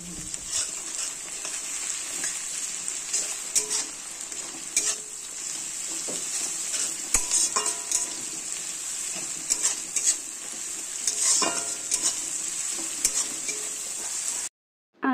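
Onion frying in oil with a little garlic paste and ginger paste, stirred with a utensil; a loud, continuous sizzle runs throughout, broken by frequent scraping and clinking strokes against the pan before cutting off abruptly.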